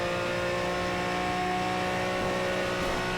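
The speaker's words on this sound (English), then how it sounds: "let you guys enjoy some more car sounds through the next section of the circuit." Race car engine in Project Cars on the Nordschleife circuit, droning at a steady high pitch, a sustained buzzing whine with no speech over it.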